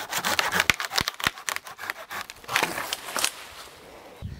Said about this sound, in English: Not only is it a premium Japanese pull saw, it's an amazing pruning saw too.